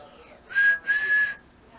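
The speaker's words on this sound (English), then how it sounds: "The guard blew his whistle" A train guard blows his whistle: two short, shrill blasts in close succession, clear and alone.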